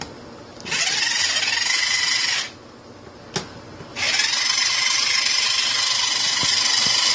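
Cordless can opener running on two AA batteries, cutting around a can just below the rim, a loud close motor whine in two bursts with a short pause and click between them.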